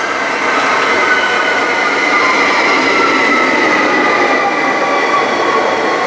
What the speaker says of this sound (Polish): to jest flirt kolei mazowieckich